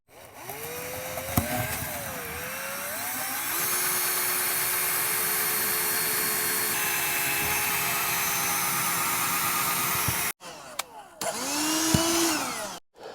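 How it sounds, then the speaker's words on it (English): A power drill bores a hole through an RV roof, running as a loud steady whine that starts and stops at the beginning, holds for several seconds, then cuts out and briefly spins up again near the end. "take this bit and then get started drilling"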